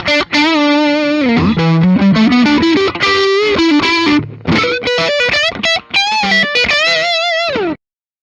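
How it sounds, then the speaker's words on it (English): A 2016 Gibson Les Paul Custom electric guitar through humbuckers on a distorted channel plays a loud, sustained riff of chords and single notes, ringing out alone before stopping abruptly. "I'm really digging the full-on humbucker tones on the distorted channel."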